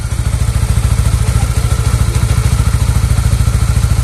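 A Honda CBR 150R motorcycle engine idles steadily nearby, its low rhythmic chug-chug pulsing evenly throughout with a slight mechanical clatter.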